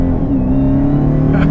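Steady, loud low engine drone from a modified Dodge Charger Hellcat, holding a constant revving note throughout with strong harmonic tones and no voices.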